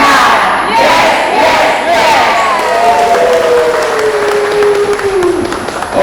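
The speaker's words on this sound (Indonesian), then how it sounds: "tepuk tangan dong buat Bu Ibu" Loud crowd applause and cheering at a two-day training session for immunization communicators in Brebes, a dense roar with shouts and a whistle-like tone running throughout, voices mixed in.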